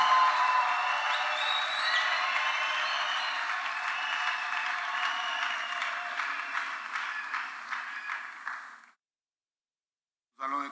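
A church congregation at a wedding service applauds and cheers for the Lord, a dense steady wash of clapping and voices that carries on for about nine seconds before cutting to silence, with a brief burst returning at the very end.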